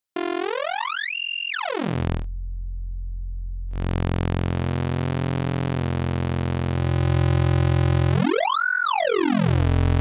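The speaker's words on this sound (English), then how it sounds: "it gives us that trademark kind of oscillator sync sound" A bright synthesizer tone with the sharp, tearing character of oscillator sync sweeps up and down in pitch, pausing briefly before a sustained buzzing note and another sweep.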